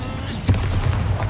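A Bombarda blasting spell goes off in the Hogwarts Legacy video game as one sharp blast early on, trailing into a low rumble under steady game ambience.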